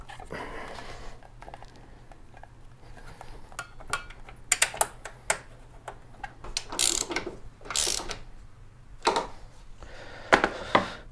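A ratchet clicks in short quick bursts while tightening headlight bolts on a 2021 Jeep Gladiator, with pauses and small clanks between strokes, close and clear with no talk.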